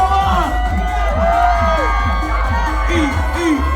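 A crowd cheers, whoops and shouts for the competitors at a pho eating contest at an outdoor night market, with loud, continuous excited voices and children shouting close by throughout.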